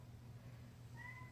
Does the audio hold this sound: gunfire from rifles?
no